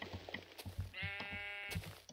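A single sheep bleats in Minecraft, a clear wavering cry in the middle of steady soft thumping footsteps on ground.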